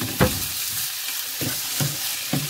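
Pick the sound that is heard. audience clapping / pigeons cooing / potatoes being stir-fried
potatoes being stir-fried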